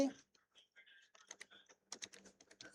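Computer keyboard typing while entering a status field on a crop loan waiver website, a quick irregular run of close, crisp key clicks that grows denser toward the end, with no talking.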